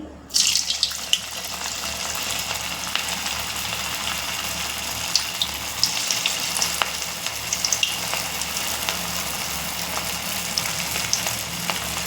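Cabbage manchurian balls deep-fry in hot oil, a steady bright sizzle and crackle that stays even throughout, with scattered pops and no talking.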